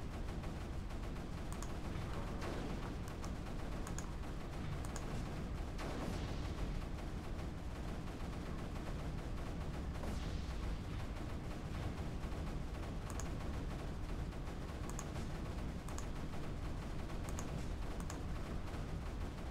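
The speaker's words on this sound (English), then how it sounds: "We're gonna give you a couple of standard cannons." Standard cannons in the video game Creeper World 3 fire in a continuous, steady barrage of rapid, fairly faint shots over a dense rumbling bed, with no pause throughout.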